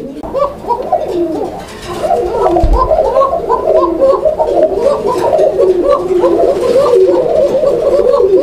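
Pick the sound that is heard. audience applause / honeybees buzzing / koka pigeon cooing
koka pigeon cooing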